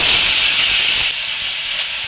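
Spices dropped into hot oil in a kadai give a loud, steady, bright hiss that eases slightly about halfway through, with no voices.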